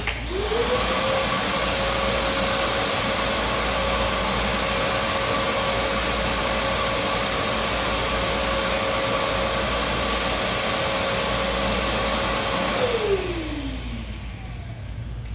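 A vacuum cleaner fitted with a bristle adapter, used for cleaning mats, runs as a loud, steady motor whine for the whole stretch, rising in pitch as it starts and falling away as it shuts off near the end, with no talking.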